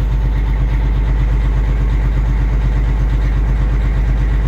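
Detroit Series 60 12.7 diesel in a Freightliner truck idling at a raised idle while cold, a steady close, loud rumbling drone with an even pulsing beat and no voices.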